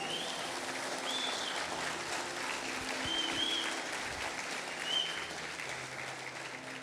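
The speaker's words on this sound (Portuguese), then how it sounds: "Dá para aplaudir ao Jesus?" Church congregation applauding during a sermon, a steady wash of many hands clapping at moderate distance, with a few faint high tones drifting over it and no speech.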